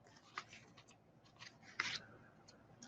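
Scissors snip through cardstock being trimmed for a handmade card, a few crisp close cuts and rustles spaced irregularly with one louder slice near the end, with no talking.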